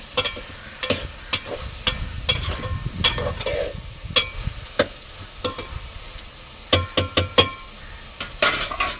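Brinjal and tomato curry cooking in a pan, a soft sizzle under repeated sharp clinks and scrapes of a utensil against the pan, coming in irregular bursts.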